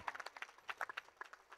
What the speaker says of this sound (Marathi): दादांसाठी एकदा जोरदार टाळ्या.